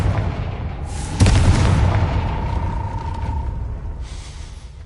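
A Confringo blasting spell explodes in the Hogwarts Legacy video game: a single loud, close boom with a sharp onset, followed by a long rumbling decay and a faint ringing tone.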